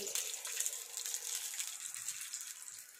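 Water pours steadily into a pot of curry with a continuous splashing gush, close by.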